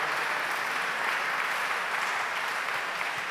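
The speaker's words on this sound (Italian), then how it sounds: "Facciamo un applauso al dottor Volpi" Dense, sustained applause from a concert hall audience at an international classical guitar competition award ceremony, an even wash of many hands clapping without pause.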